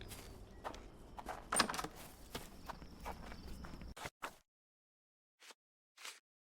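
Horse hooves clopping and stepping in a Sherlock Holmes The Awakened video game, several irregular footfalls over game ambience, then a pause and two more isolated thuds.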